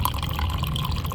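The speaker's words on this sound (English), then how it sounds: "You really got to get the ass end up for it to pour." Coffee pours from a tipped-up container in a steady liquid stream that gurgles and splashes briefly, close and fairly loud, with no talking.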